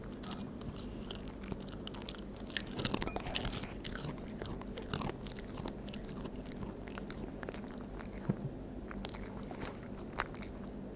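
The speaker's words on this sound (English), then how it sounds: "I hope you guys could hear the crunching." An animal crunches and chews food up close, with steady crisp bites and crackling mastication continuing throughout, fairly quiet and alone.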